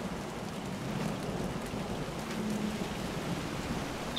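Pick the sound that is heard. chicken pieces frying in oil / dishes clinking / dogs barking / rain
rain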